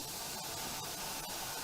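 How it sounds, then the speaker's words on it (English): Humbrol paint sprayed from an aerosol can, a steady, loud hiss that runs unbroken for the whole moment, with faint brief ticks and no voices. "Look, I'm trying my best to spray this stuff, it's not going well."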